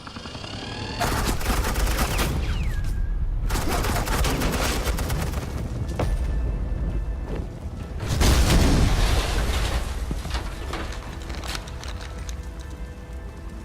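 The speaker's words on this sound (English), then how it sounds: "Suppressing fire." Suppressing gunfire in the video game Batman: The Enemy Within, a loud sustained barrage of rapid automatic shots in long bursts, with a brief pause between volleys and a heavier surge near the end.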